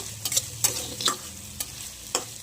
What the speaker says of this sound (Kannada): ಆಲೂಗಡ್ಡೆ ಸಣ್ಣದಾಗಿ ಹಚ್ಕೊಂಡಿರ್ತೀವಲ್ಲ ಅದನ್ನೆಲ್ಲ ಹಾಕಿ ಎಣ್ಣೆಲೆ ಫ್ರೈ ಮಾಡ್ಕೊಳ್ಳೋಣ.